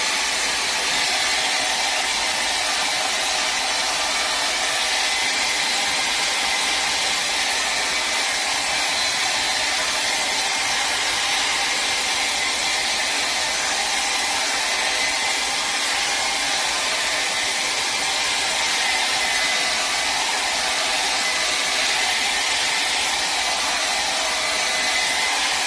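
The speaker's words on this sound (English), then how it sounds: "So I'm going to take my dryer now. Use my dryer over here, and I'm going to dry it" A hair dryer blows over a dollar-store tray being decoupaged with rice paper, giving a loud, steady, close whooshing roar that holds unchanged throughout with no talk.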